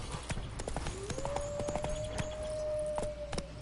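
Geralt's horse Roach gallops in The Witcher 3, a rapid rhythmic clip-clop of hooves close up and continuous, with a faint sustained tone running through the middle, no talking.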